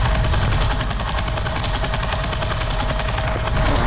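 A helicopter's rotor chops in a steady, loud, continuous rhythmic drone with a whining engine tone, close and unbroken throughout, in the Roblox game Airplane Simulator.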